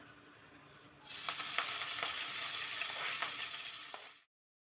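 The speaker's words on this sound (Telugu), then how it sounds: "మెంతికూర ఇలా నూనెలో చక్కగా ఫ్రై కావాలి" Chopped fenugreek leaves hit hot oil and erupt into a loud, even sizzle after a quiet second, with a few stirring clicks, then it cuts off abruptly.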